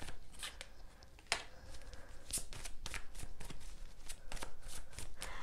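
Tarot cards riffled and shuffled close up, a steady run of soft papery flicks with one sharper snap as a card is drawn, fairly quiet with no talking.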